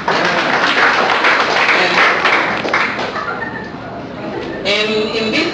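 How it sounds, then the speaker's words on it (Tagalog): Audience applause at a cooperative's annual chairman's report meeting, a dense sustained wash of clapping from a crowd that stays loud throughout, with voices mixed in and a brief spoken moment near the end. "Palakpak naman tayo."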